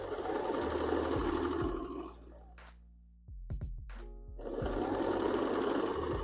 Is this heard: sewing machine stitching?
yes